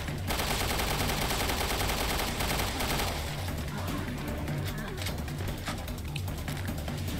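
Rapid gunfire in Resident Evil Revelations 2 blends with loud, dense game noise and someone talking over it, the shots merging into a continuous crackling barrage that thins slightly in the second half.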